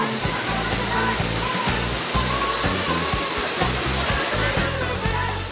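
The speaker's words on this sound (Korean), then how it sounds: "가장 깊숙한 곳에 은밀히 숨은 비밀의 폭포 등장." A hidden waterfall deep in the Luzon jungle of the Philippines roars with a loud, constant wash of falling water, while low, rhythmic musical tones pulse underneath.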